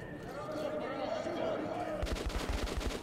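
In the video game Metro Last Light Redux, a rapid burst of gunshots crackles near the end of the clip. Before it there is a murmuring ambient stretch, and voices are heard.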